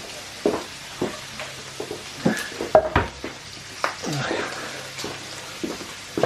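Bacon frying in a pan, a soft sizzle running under repeated clinks and knocks of utensils against cookware, with no voices.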